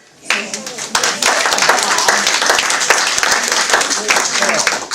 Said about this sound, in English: we need to give him a round of applause